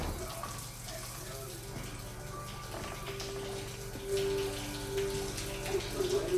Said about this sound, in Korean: 어두운 집 안에선 오직 샤워 소리와 TV 소리만 들리고